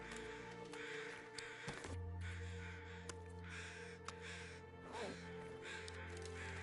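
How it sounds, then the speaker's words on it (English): Crow caws ring out in The Long Dark, a few sharp calls standing above a steady low game hum and wind, moderately close and repeating irregularly with no talk. "Crows are getting louder."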